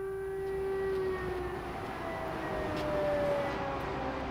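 A distant air raid siren in wartime Kharkiv, Ukraine, wails in long sustained tones that slowly sink in pitch, over a low background rumble.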